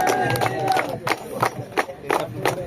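A crowd at a volleyball event for fishing-village youth, held by the Ramayapatnam coastal security police, claps in a steady rhythm of sharp bursts about three per second, with voices mixed in.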